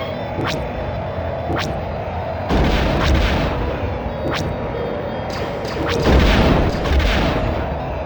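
Blasters fire in a Star Wars game on the N64, with repeated sharp laser-like shots and heavy booming impacts over a constant engine rumble. The shots come in irregular bursts, loud and close.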